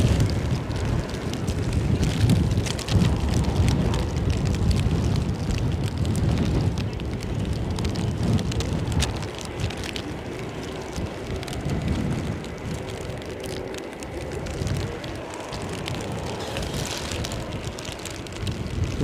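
Strong crosswind gusts of up to 40 mph with rain buffet the microphone at Edinburgh Airport, producing a loud, continuous roar and rumble that eases slightly midway but persists throughout, with no talking.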